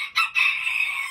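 A backyard chicken crows close and loud, a single sustained cock-a-doodle-doo after a brief clucking onset, with no talking over it.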